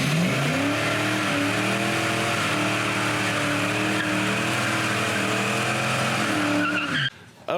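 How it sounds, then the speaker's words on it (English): A Ford Mustang does a loud, sustained burnout, its engine roaring steadily while tires squeal and skid for about seven seconds before cutting off abruptly. "It's a Mustang, baby. That means burnout."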